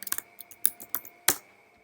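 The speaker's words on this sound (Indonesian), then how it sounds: "Kita ketikkan related" Scattered keystrokes on a computer keyboard as a search query is typed, a few quick clicks followed by isolated taps and one sharper strike, close and quiet with no talking.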